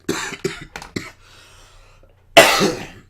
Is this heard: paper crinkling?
no